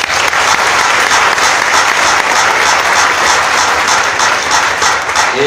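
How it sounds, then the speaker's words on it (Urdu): Loud, dense applause from a congregation during Pentecost church worship in Abbottabad, steady clapping throughout with no gaps. "بھرپور تالی بجائے"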